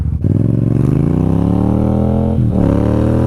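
A borrowed motorcycle revs hard and accelerates up close, its loud engine note climbing steadily, then briefly dropping at a gear change before rising again.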